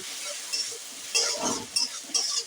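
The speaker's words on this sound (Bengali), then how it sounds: "আদা রসুন বাটাটা পেঁয়াজের সঙ্গে একসঙ্গে ভাজতে থাকছি।" Ginger garlic paste fries with onions in a pan, a soft sizzle with several bursts of scraping as a spatula stirs the mixture up close.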